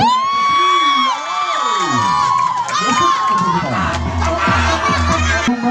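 A packed crowd at a heated local volleyball match in Gayo, cheering, whooping and shouting continuously and loudly, with excited high voices and children's yells swelling throughout.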